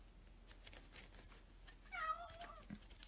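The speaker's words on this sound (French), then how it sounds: "Je ne sais pas si vous l'entendez miauler derrière." A cat meowing in the background of an indoor room: one drawn-out, wavering meow in the middle of the stretch, fairly faint behind light clicks and rustling, with no one speaking.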